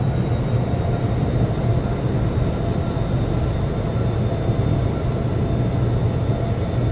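An airliner taxiing in the Infinite Flight simulator game, heard as a steady, continuous low engine rumble and whine at constant loudness throughout, with no talk.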